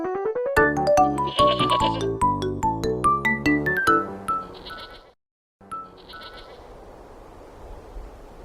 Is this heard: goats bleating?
yes